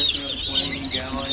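Young chickens cluck and peep close by, a brief run of high chirping calls with light voices in the background.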